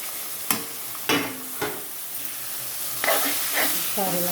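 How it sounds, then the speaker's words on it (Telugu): Loud sizzling bursts as eggplant paste hits hot oil tempering, several sharp hissing splashes in quick succession followed by steady frying crackle. "ఇప్పుడు ఈ పోపులో ఈ వంకాయ ముద్దను వేసేసుకోవాలి"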